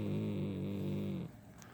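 A pet cat gives a long, drawn-out vocal sound close by, a steady harmonic tone holding for over a second before it cuts off into quiet room tone.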